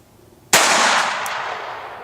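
A single sharp gunshot from a Ruger SR22 pistol firing CCI 40-grain Velocitor hypervelocity .22 ammunition, a loud crack followed by a long ringing decay, with no talk.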